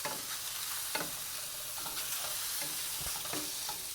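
Mushrooms frying in a pan after their liquid has cooked off, a steady soft sizzle with occasional stirring scrapes, close and fairly quiet with no talking.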